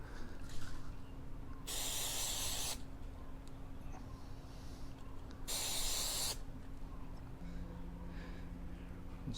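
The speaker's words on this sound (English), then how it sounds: "The 3M headliner adhesive. I have it on setting medium. And let's go ahead and spray this piece down." A 3M headliner adhesive aerosol can, set to medium spray, gives two sustained hissing bursts of about a second each onto a car interior trim piece, with a low steady hum between them.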